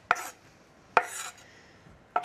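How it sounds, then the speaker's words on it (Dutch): A knife chopping food finely on a cutting board in a home kitchen: three sharp, close knocks spaced about a second apart, with no talking. "Dus ik ga ze een klein beetje fijn snijden."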